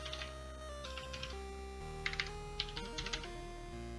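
Password typed on a computer keyboard in DOSBox: a quiet run of clicky keystrokes in short bursts over a steady electronic hum, with no talk.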